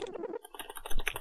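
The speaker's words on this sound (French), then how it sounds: "Je casse mon clavier!" Rapid, hard clacking on a computer keyboard, a quick burst of forceful key strikes that are close and dry, with a brief pause partway through.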